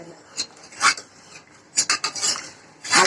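Ration-shop dal lentils stirred in a steel vessel for sambar, a few short scraping clinks of a spoon against the metal in irregular bursts, close and fairly clear.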